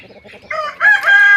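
A Thai fighting rooster of a gamecock breed, let out to graze on grass, clucks softly a few times and then gives a loud, close crow.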